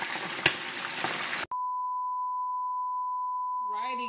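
Loud, crackling deep-fry sizzle of chicken wings in oil for a second and a half, then abrupt silence, a steady electronic beep tone, and voices starting up at the end.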